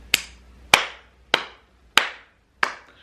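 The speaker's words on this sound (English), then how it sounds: "Slow clap to you, diet industry, because you've fooled us all." Five single, sharp hand claps spaced slowly and evenly about half a second apart, each ringing briefly in a room, close and alone with no talk.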